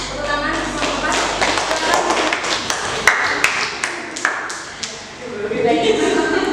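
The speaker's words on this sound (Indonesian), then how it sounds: "Tepuk tangan untuk kelompok 4." Classroom applause for student group 4 after their presentation in a math lesson: a dense patter of many hands with a few sharper claps near the middle, mixed with voices.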